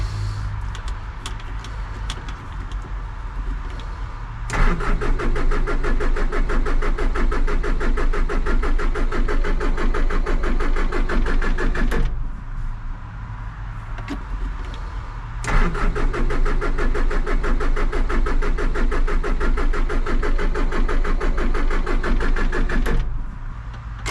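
The diesel engine of a Takeuchi TL150 excavator under rebuild cranks and runs loud and close in two long stretches at full throttle, each ending abruptly, separated by a lower idle hum.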